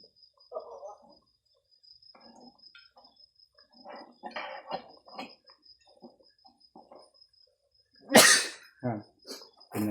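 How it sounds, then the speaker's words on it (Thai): People sneeze from sharp fumes of a fermented-fish Isan pork rib curry with banana blossom, one loud close sneeze standing out near the end among scattered quieter sounds and brief talk, a thin insect-like whine running throughout. "จามทุกคน"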